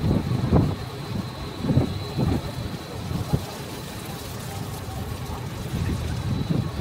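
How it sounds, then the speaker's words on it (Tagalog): Strong wind gusting across the microphone in low, rumbling bursts at an attraction at SM Mall of Asia, Philippines, with a steady hiss beneath and a faint tone running throughout. "At mahangin."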